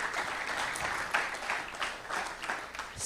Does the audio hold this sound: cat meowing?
no